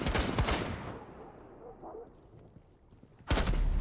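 Sharp broadband gunshots from Rainbow Six Siege, a loud burst of rapid shots at the start, then a quieter stretch, and another loud volley near the end.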